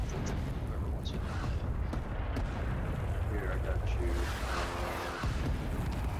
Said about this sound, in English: Oh no, that's enemy bombs. That's not ours.